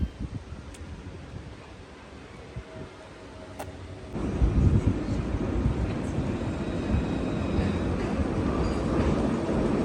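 Train at Montpellier railway station, a low rumble that swells into a loud, sustained roar partway through, heard close.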